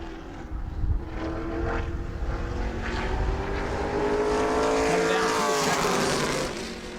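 A pro late model race car on a qualifying lap at New Smyrna roars past, its loud engine drone rising and shifting in pitch as it passes, close and continuous with no talk.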